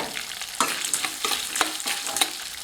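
A large sliced onion sizzles and crackles in a hot pan with garlic for coriander chutney, with a steady frying hiss and occasional sharper pops and stirring scrapes.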